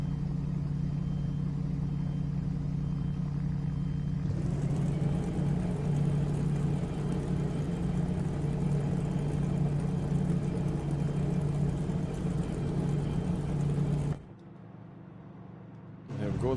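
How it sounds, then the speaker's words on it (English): Race car engines in Assetto Corsa Competizione on PS5 start up at the Hungaroring as a field of 24 cars: a loud, dense, steady rumble and whir builds after a few seconds, then drops away abruptly near the end. "There we go. We have engines."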